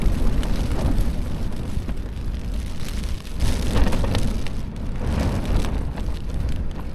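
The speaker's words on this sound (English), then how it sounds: "it is currently raining. I don't know whether you can see or hear it very well on the tent" Rain and gusting wind of up to 35 mph batter a Hilleberg Soul tent at a wet wild camp in the Malvern Hills, making a loud, steady roar that swells and eases with the gusts. No one speaks.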